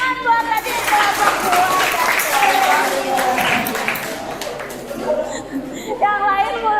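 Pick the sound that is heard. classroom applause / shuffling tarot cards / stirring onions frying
classroom applause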